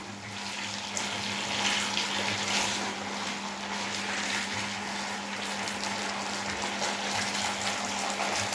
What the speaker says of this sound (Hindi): 2 से 3 मिनट तक हमने इसको अच्छी तरह से फ्राई कर लेना है।